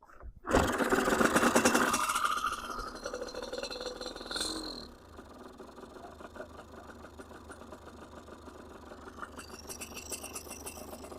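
An old engine from a barn find runs with the choke on, a loud rattling mechanical chatter at first that drops to a quieter, steady uneven idle.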